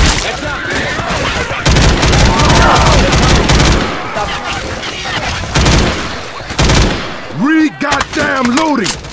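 Rapid gunfire rattles loud and close in Left 4 Dead 2, with dense bursts and booms that ease off midway before shouting voices break in near the end.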